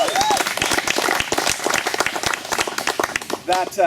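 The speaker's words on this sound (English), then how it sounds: "So big round of applause for you guys." A group of donors at a water safety charity presentation receives a round of applause, crisp, rapid claps from a modest crowd sounding close and lively, with brief voices at the start and end.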